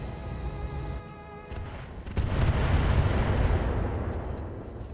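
Heavy weapons volley in the BattleTech mod RogueTech, aimed at a Marauder mech: a loud booming burst that swells after a brief lull and rumbles on in a dense, sustained roar.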